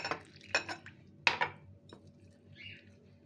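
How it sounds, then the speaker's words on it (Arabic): A spoon clinks and scrapes against a bowl while stirring cauliflower batter as water is added bit by bit, a few sharp knocks over quiet background hum, faint and close. "هنبتدي بقى ننزل المية واحدة واحدة كده ونقلب"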